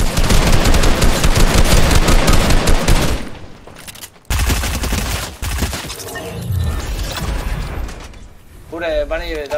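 Sustained machine-gun fire and rattling gunshots in a shooter video game fill the first few seconds loudly, then sparser shots and game effects follow with someone speaking amid the action.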